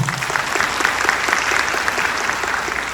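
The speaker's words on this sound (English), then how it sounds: "Let's give Jocelyn a round of applause." An audience at a leadership talk claps in sustained, dense applause, loud and steady throughout with no voices over it.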